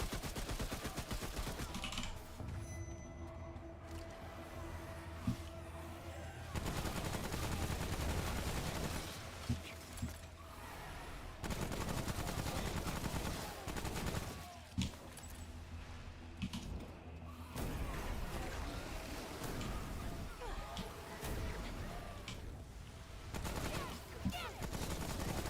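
Burst rifle fire in a modded video game, dense and loud, with rapid repeated bursts and sustained volleys running almost continuously, a few short gaps between them and faint game ambience underneath.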